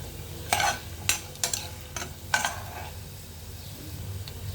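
Star-shaped snacks puffing up as they fry in hot oil, a handful of sharp crackling bursts and scrapes over a low steady sizzle, close and fairly quiet, with no talking.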